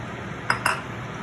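A utensil stirs Kerala fish curry in a pot, giving two quick metallic clinks in close succession over quiet background noise.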